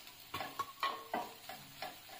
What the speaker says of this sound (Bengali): ভালোভাবে নাড়াচাড়া করে নিচ্ছি